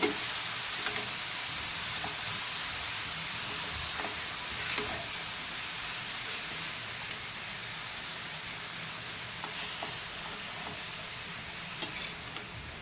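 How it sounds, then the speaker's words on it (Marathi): Carrots sautéing in ghee for Marathi-style gajar halwa give a steady, soft frying hiss with faint stirring scrapes, even and fairly quiet throughout with no talking. "गाजर तुपामध्ये थोडं परतून त्यावर झाकण ठेवून त्याला शिजवून देते मी"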